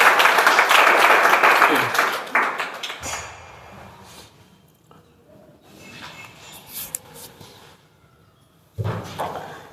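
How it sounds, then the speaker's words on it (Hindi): Applause welcoming a student at a maths competition academy event, a burst of clapping from a crowd at the start that fades out, then quieter room noise and a short return of clapping at the end. "जोरदार तालियों से स्वागत करिए लोग"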